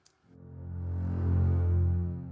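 An orchestral string bass section swells slowly, low sustained tones building from quiet to a full, warm peak and holding, with no other instruments or voices.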